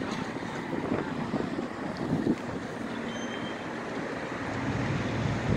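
Wind blows across the microphone in a low, steady rush with faint rumbling underneath, no voices present.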